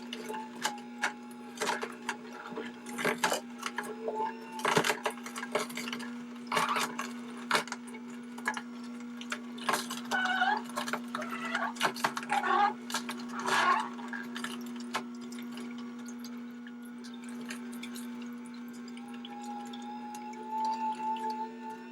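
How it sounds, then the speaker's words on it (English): A TKTK slow masticating juicer grinds and crushes food being pushed down with a pusher, a steady motor hum beneath irregular crackling, ticking and squeaking bursts, fairly quiet and close, with no talk. "I'm using the pusher to push it down."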